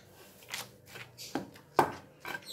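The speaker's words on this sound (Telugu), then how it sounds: "ఇది రోట్లో ఊరికే మెదిగిపోతుంది." Gongura leaves with salt are pounded in a stone mortar, making a few irregular, soft, close thuds and crunches separated by short pauses.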